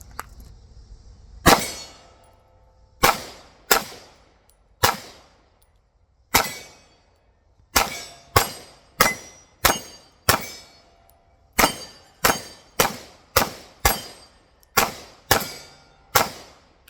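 Repeated sharp pistol shots from a Tisas PX9 with a compensated barrel at an outdoor range, about eighteen loud cracks fired singly and in quick strings, each ringing out briefly, no talking.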